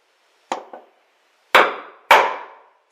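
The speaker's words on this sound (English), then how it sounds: "I am going to just feel the chisel drop into the knife line" Chisel punched straight down into a knife line in wood at a workbench while fitting cabinet hardware for fine furniture: a light tap, a second lighter one, then two loud sharp blows with brief ringing decay, close and alone.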